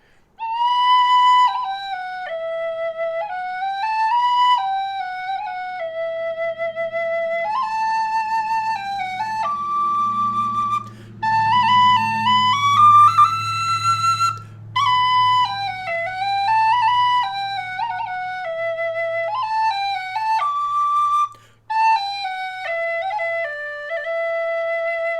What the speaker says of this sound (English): You could play an expressive tune on this whistle. A little bit of Return from Fingal.